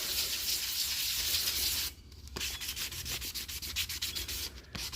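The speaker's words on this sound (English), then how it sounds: "So I'm going to take 800 grit, okay? And I'm just going to go over it." Fine 800-grit sandpaper rubbed by hand over a small wooden craft Christmas tree makes a close, steady hiss, then shifts into quicker back-and-forth scratchy strokes with a brief pause between.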